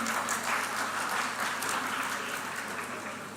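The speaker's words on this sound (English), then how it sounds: "You can keep the applause going" Sustained applause from a literary festival hall audience, a dense, steady wash of clapping that thins slightly toward the end.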